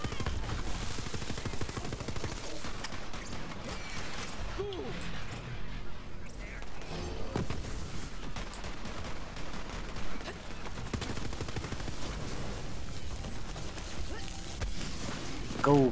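Sustained automated turret gunfire in the shooter game Borderlands 3, rattling steadily through dense combat noise while people talk over it throughout.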